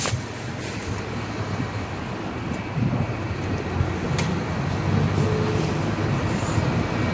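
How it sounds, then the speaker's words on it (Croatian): Strong wind blows outdoors as a steady, loud broadband rush with low rumbling gusts, filling the whole stretch with no one speaking. "Dosta puše vani."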